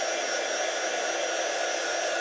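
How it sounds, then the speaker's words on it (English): A hot heat gun blasts steadily to dry a surface before painting on a vintage London taxi project, a constant loud broadband whoosh with no break and no one speaking. "So nice hot heat gun, first of all."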